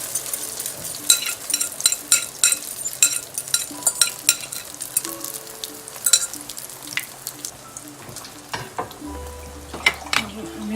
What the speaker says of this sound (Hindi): अब हम इसमें जो हमने अपना मिक्सचर बैटर तैयार किया था, ऑयल में आहिस्ता से सब डाल देंगे।